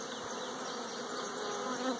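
Honey bees swarm and buzz inside an open beehive during a hive inspection, a dense, steady drone with no talk, fairly quiet but continuous throughout.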